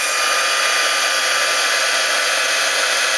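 A heat embossing tool blows hot air over a card, a loud, steady, close whir that holds unbroken throughout.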